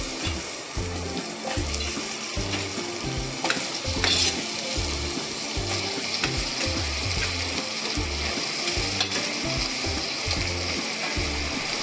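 Green chillies, green peas and potatoes sizzle in a pan for pulao, a steady frying hiss broken by repeated scraping and stirring clatter from a utensil.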